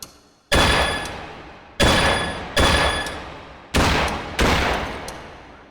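Gunshots on a shooting range drill striking steel targets: five loud, sharp reports spaced roughly a second apart, each ending in a ringing metallic ping and a decaying echo, with no talking.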